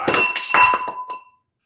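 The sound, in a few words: glass knocked over, clinking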